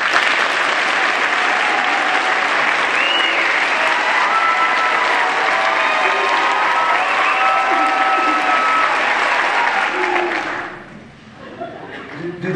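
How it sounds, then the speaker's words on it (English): Loud, sustained applause with some cheering from a high school National Honors Society audience, a thick wall of clapping that stops fairly abruptly near the end, leaving quieter room noise and murmurs. "give me your loudest, greatest, deepest, most heartfelt applause"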